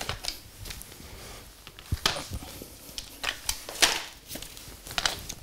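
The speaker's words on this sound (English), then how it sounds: "you can take off the rear wheels." Rear wheels being pulled off a Bugaboo Donkey 3 stroller, a series of close plastic and metal clicks and clacks in an irregular rhythm with no talking.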